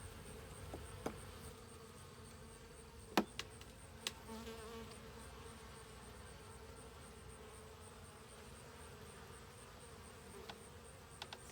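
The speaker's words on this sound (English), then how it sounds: "because there's more bees" Honeybees buzz steadily around an open hive during an inspection, a dense close drone with a few brief knocks and taps, with no voices.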